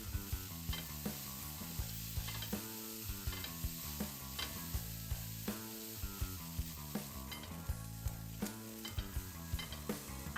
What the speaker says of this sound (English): I sauteed it a bit until slightly golden